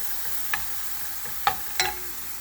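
Food for a spaghetti pie cooks down in a pan until translucent, giving a quiet, steady sizzle broken by three sharp clicks of a utensil against the pan.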